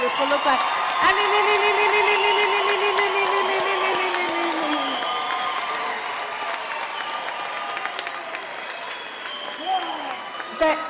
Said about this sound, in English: I'd like you, the parents, to stand up and applaud the graduates.